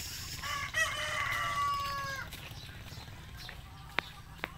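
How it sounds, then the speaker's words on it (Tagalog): A rooster crows once on a farm with grape vines, a clear drawn-out call at moderate distance over steady background noise, followed by a couple of faint sharp clicks. "Ay, yung mga manok ni Idol."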